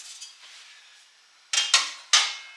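The front panel of a bed-of-nails test fixture rattles faintly, then gives three sharp metallic clacks with short ringing tails as it is slid back, lifted and pulled free.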